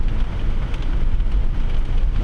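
Steady rain drums on a car while driving through a 100 zone, a dense continuous patter with low rumbling road noise underneath, constant and fairly loud with no talking.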